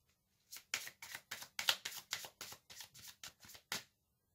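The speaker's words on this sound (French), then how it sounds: "Je vais tirer une carte supplémentaire." Tarot cards are shuffled and flicked from a deck, about a dozen quick, papery riffles in rapid sequence, close and quiet with no voice.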